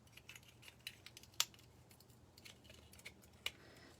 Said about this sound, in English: I've got my wire cutters. I'm going to see if I can't cut this out.